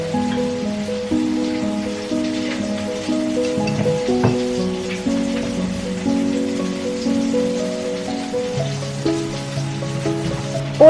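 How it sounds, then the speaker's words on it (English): Mackerel pan-fries in olive oil with a soft, steady spattering sizzle that runs the whole time, fairly faint beneath a louder melodic musical backing. "All I did was pan fry the fish in some olive oil while I was preparing the salad."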